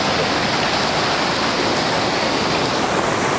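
Storm flash flood water rushing through Tsoutsouras in the Heraklion region of Crete makes a loud, continuous roar of broadband noise with no letup and no voices.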